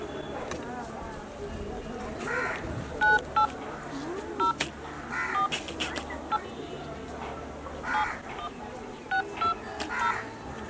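Telephone dialing tones beep in short irregular bursts, several keypresses in a row, over a noisy background with voices.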